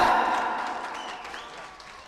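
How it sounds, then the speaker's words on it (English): A school audience applauds the graduating class of 2021 at the Riverside Academy West ceremony, a dense burst of clapping that starts full and slowly thins out. "Big round of applause."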